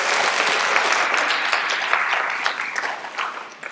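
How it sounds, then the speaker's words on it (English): Group applause after someone speaks at a leadership workshop, a few seconds of lively clapping from a modest audience that thins and fades toward the end. "So we've adapted a ritual of clapping after every time everybody speaks."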